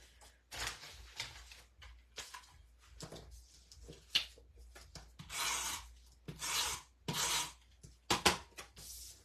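Paper rubs firmly in repeated short strokes as an envelope flap is pressed down on a handmade Stampin' Up! greeting card. The scratchy swipes come close and fairly soft, with short pauses between them and no talking.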